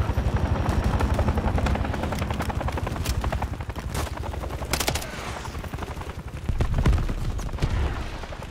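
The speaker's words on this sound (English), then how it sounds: "Heads up! Enemy helo is overhead!" Enemy helicopter in the video game Operation 627 roars overhead with a steady, loud rotor drone, mixed with bursts of rapid machine-gun fire and heavy shooting throughout.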